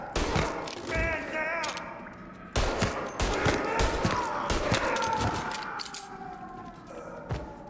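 Gunfire in the video game Mafia Definitive Edition: loud, sharp shots crack in irregular bursts and volleys, with a siren wailing faintly underneath.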